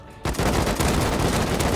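Rapid automatic gunfire in the survival game Rust, an AK-style rifle bursting suddenly into a dense, loud, continuous string of shots after a brief quiet moment.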